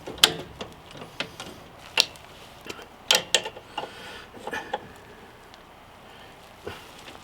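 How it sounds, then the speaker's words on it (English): Pipe wrench working a plumbing fitting: scattered sharp metallic clicks and clanks at an uneven pace, close but fairly quiet, with short pauses between bursts. "I'm gonna need my pipe wrench."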